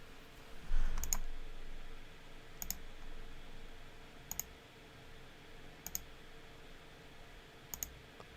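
Five sharp, isolated computer mouse clicks ring out at regular intervals of roughly a second and a half, near and crisp over a quiet room background, while working in Blender.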